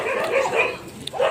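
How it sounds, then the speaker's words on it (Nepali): Dogs barking near a temple in Nepal, several quick yips and barks close by in a short burst, with no talk over them. "कसका कुकुरहरू है"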